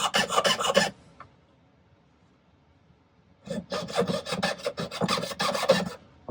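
A jeweler's saw cuts metal for a ring in quick rasping strokes, one short burst, a pause of silence, then a longer run of close, rhythmic sawing.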